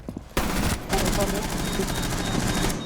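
Rapid automatic gunfire rattles through a Rainbow Six Siege match: one short shot, then a loud sustained burst of close, fast shots that keeps going to the end, with players talking over it.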